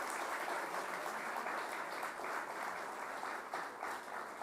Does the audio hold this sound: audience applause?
yes